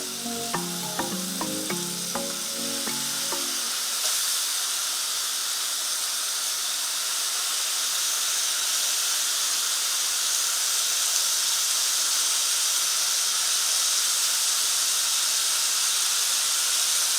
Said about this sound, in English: we're going to lightly saute them